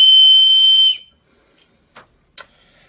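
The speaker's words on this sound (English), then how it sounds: "the Victorinox whistle knife. And it's actually a pretty good whistle considering the size of the knife" A Victorinox whistle knife gives one loud, shrill, steady tone that lasts about a second and then stops abruptly, followed by a few faint clicks and taps.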